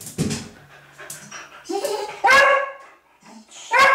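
A dog gives a few short barks and yips close by, mixed with panting and whimpering, with a person talking softly in between.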